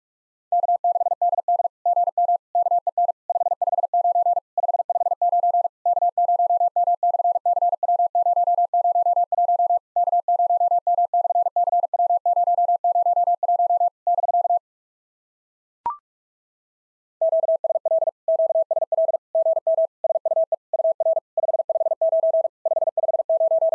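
Morse code CW tones keyed at 45 words per minute for summit-activation contact practice: a steady single-pitch tone in rapid dots and dashes, clear and alone, broken by a brief pause and a short click midway.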